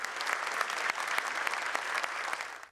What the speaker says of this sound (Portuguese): a plateia aplaudiu de pé